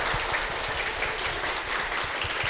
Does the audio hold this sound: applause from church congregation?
yes